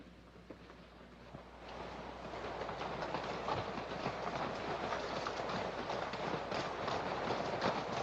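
A steam-era train running on rails in a Wild West setting, building from a quieter start into a steady, dense rhythmic clatter of wheels that fills the scene at moderate distance, with no speech over it.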